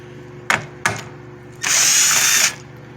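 Power tool driving out 10mm tail light bolts on a Subaru Crosstrek: two short close bursts, then a longer steady whirring run of about a second, loud and alone.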